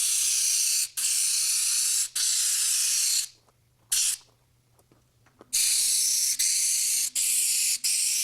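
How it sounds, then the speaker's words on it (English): Several short hissing bursts of penetrating oil sprayed onto the bumper bolts of an '86 GMC Sierra Classic, loud and close, with a quiet pause in the middle and no talking. "Already given all my bumper bolts here a couple good squirts of penetrating oil"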